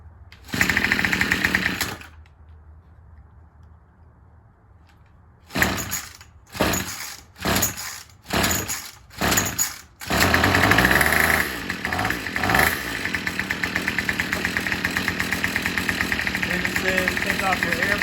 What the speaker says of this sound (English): the instructions say start your engine